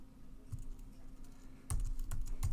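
Close, quiet typing on a computer keyboard, a soft run of key clicks that grows denser and louder halfway through, with a low steady hum underneath.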